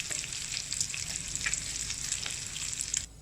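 Pork frying in a pan until brown, a steady close hiss and crackle of sizzling fat with faint stirring scrapes, no voices.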